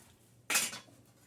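Pinto beans tip into a previously used cooking pan in one quick, fairly loud rattling clatter lasting about a third of a second, with quiet kitchen room tone before and after.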